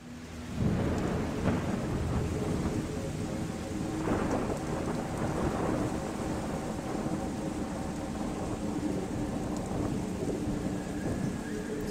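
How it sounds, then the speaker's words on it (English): A thunderstorm with heavy rain in the video game ICO, steady hissing downpour broken by several deep rumbling thunder bursts, loud and continuous with no talking. "we escape and a storm, huge storm starts"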